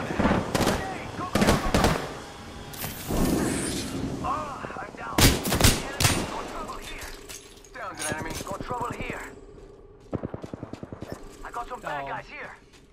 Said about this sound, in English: Grenade goes off. Boom.